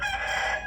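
A rooster crows among a flock of breeding chickens, a short, loud, close burst of strained harmonic calling with no talk over it.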